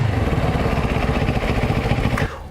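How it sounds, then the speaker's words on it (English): A CFMOTO 700 CL-X Heritage motorcycle engine runs steadily with a throaty, pulsing rumble up close, then the sound drops off abruptly near the end. "let's hear the sound. And the sound of this motorcycle is lovely"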